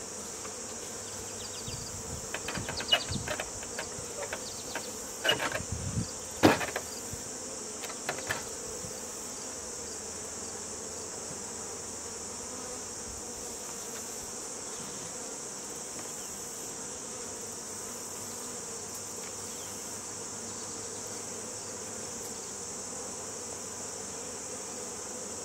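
Honey bees buzz steadily and close throughout while honey supers are pulled from the hive, a dense continuous drone with a few brief knocks and scrapes of hive equipment early on.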